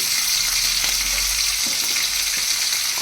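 Green chilli and chopped ginger fry in a pan, a dense, steady sizzle with faint stirring scrapes underneath, close and unbroken throughout.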